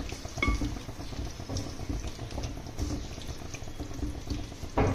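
Boiled country chicken fries in tomato masala together with its cooking water in a pot, a continuous, moderate bubbling sizzle with soft pops throughout.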